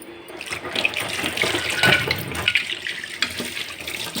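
Tap water runs while brass puja lamps are rinsed under it, a steady close splash and gurgle shifting in tone as the metal moves through the stream, with occasional light clinks.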